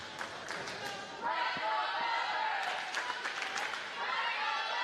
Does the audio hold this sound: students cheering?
yes